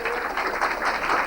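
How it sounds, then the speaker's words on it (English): Audience applause for a brass and reed band at an evening GAA awards function in Carrick-on-Suir, a steady dense wash of clapping with no pauses through the brief stretch. "A very big welcome and a round of applause for the lovely music they"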